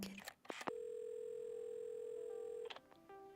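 Telephone dialing in Assemble with Care: a few short button tones, then a long steady dial tone, then more tones, with a brief voice at the start.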